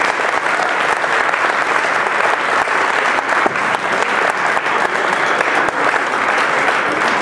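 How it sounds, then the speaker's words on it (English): Sustained applause from a crowd at a 1978 state championship ceremony, dense and steady clapping that fills the whole stretch without pause. "But let's have a nice round of applause for Eric Smith and Pat."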